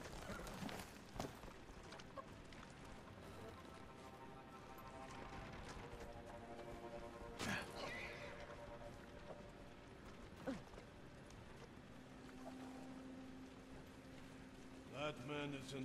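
Horses gallop in the video game Ghost of Tsushima, hoofbeats rumbling faintly and unevenly beneath a soundscape with birds and occasional voices.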